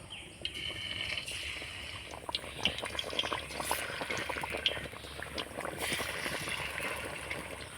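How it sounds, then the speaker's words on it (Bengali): Raw potato snacks sizzling in medium-hot oil, a continuous, fairly quiet bubbling fry with small crackling pops throughout. "এখন নাস্তাগুলো ছেড়ে দেবো তেলের মধ্যে"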